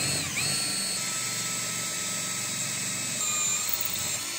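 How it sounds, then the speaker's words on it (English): A power drill fitted with a 40 mm bit bores a center hole in a lid for a mini military stove, giving a steady, loud, continuous whine and grind that holds through the whole stretch, with a brief dip early on. "Now using a 40 millimeter diameter bit,"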